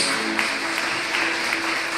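Church congregation clapping in praise during a Spanish-language Sunday service, a dense, steady spatter of applause that holds an even level throughout, with a faint sustained tone beneath.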